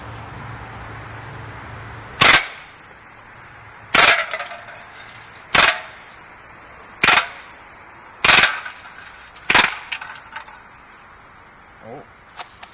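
An Umarex Steel Force BB gun fires six sharp, loud bursts at roughly even intervals outdoors, with quiet gaps between and a faint final pop.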